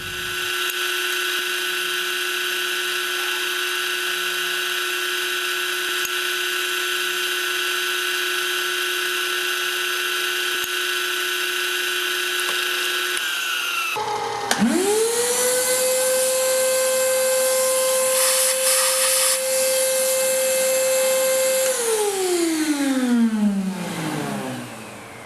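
A milling machine drills holes, its steady motor whine running constantly before the spindle revs up sharply partway through, holding a higher pitch under load and then winding down near the end.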